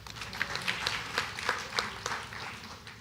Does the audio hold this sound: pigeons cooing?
no